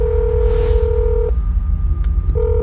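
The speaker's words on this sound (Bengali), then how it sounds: "দুটো রিং হতেই ফোনটা ধরে সুগত।" A telephone rings on the other end of a call in a Bengali detective audio story; a steady electronic ring tone plays close and clear, stops briefly, then starts again over a low background rumble.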